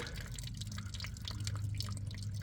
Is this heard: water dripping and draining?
yes